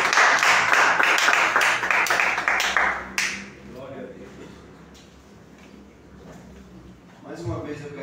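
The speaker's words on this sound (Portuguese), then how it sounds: "As palmas louvam o Senhor Jesus." A church congregation claps together in a steady burst of applause for about three seconds during a worship service, then stops and a voice speaks over quiet room sound.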